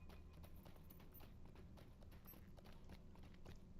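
Horse hooves clip-clop in the Lord of the Rings Online video game, a steady run of close, quick hoof beats over a constant low game background, with no talking.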